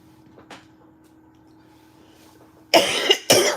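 Two loud, harsh coughs close by, one right after the other, following a quiet stretch with faint background noise.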